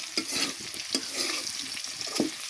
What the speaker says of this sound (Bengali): বছরের প্রথম ভেন্ডি পাক করতেছি